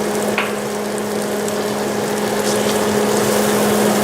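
Three cloves of very thinly sliced garlic fry in a pan, a loud, even, continuous sizzle with a low steady hum beneath it and no talking.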